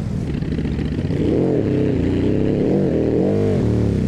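Simulated VW Beetle (Fusca) engine in BeamNG.drive labouring uphill, a loud, close air-cooled drone with revs rising and dipping in waves, running steadily without any talk over it.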